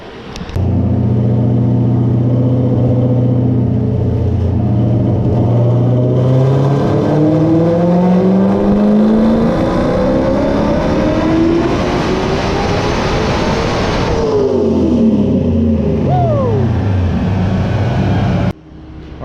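Turbocharged Coyote V8 swapped into a 1993 Mustang Cobra making a full-power pull: a loud engine roar climbs steadily in pitch as it revs up, then drops away with a falling tone, and a brief quiet gap comes near the end.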